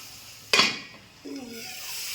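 Spice paste for vegetarian cabbage ghonto sautés in a pan with a little water added. A sharp burst of hiss is followed by a quieter lull, then a steady, close sizzle.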